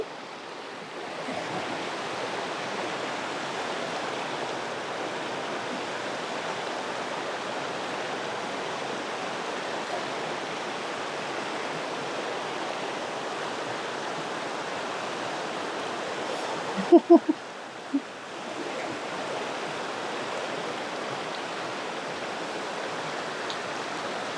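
Flood water sloshing and rushing steadily around someone wading calf-deep on a washed-out road near a cabin homestead, a continuous close wash of water with a brief splashy disturbance near the end.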